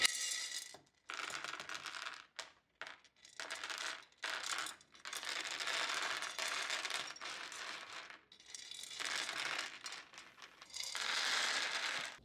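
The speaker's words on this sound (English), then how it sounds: "I found these plastic pieces that look like ice and I'm just going to fill the tray up with it" Plastic pieces made to look like ice clatter and rattle into a tray in bursts of close, crisp tumbling, with brief pauses between pours.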